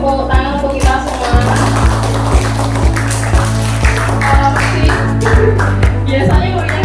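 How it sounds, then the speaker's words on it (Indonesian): Classroom audience in Indonesia applauding group presentations, with dense clapping over a steady low hum and regular sharp taps, voices mixed in. "Beri tepuk tangan untuk kita semua"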